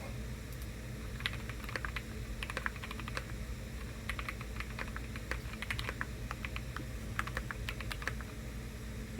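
Quick, continuous typing comes from a Keychron Q60 Max, a 60% HHKB-style wireless gasket-mount mechanical keyboard with Cherry MX switches, giving soft clustered key clacks over a low steady background hum, fairly quiet and with no talk.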